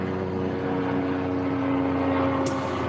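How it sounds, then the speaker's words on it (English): A medical transport helicopter drones overhead with a steady rotor and engine hum, fairly close and constant throughout. "I think that's probably the Reach chopper"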